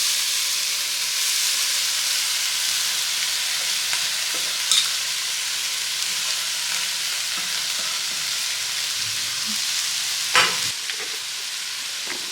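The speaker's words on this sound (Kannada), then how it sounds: "ಈಗ ನಾವು ಈ ಪ್ಲೇಟಲ್ಲಿ ಹಾಕ್ಕೊಂಡಿರುವಂತಹ ದಪ್ಪ ಅವಲಕ್ಕಿನ ಹಾಕ್ಬಿಡೋಣ" Thick poha tipped into a sizzling tempering and stirred, a soft continuous fry hiss with occasional scraping knocks of the spoon against the pan, no talk.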